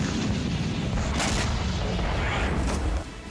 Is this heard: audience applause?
no